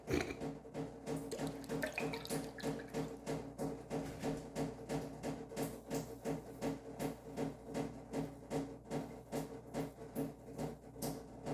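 A shower runs steadily, water splashing and pattering with a pulsing, rhythmic drumming quality, fairly faint and heard alone without talk.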